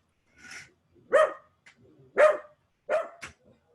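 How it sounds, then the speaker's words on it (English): A female pet dog named Robisco barks indoors at a light, giving four loud, separate barks spaced about a second apart, with a softer yip between them and no talking during them. "She's barking at the light."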